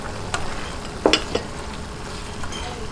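Soy sauce splashing into browned ground meat sizzling in a pan, a soft steady frying hiss with a few short stirring scrapes and one brief louder sizzle burst.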